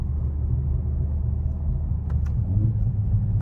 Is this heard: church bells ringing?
no